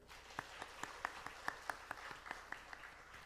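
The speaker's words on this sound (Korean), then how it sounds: "우리 박수 한번 해주세요" A church congregation gives a sparse, faint round of applause during a Sunday morning service, with a handful of distinct claps standing out at a regular rhythm against a quiet room.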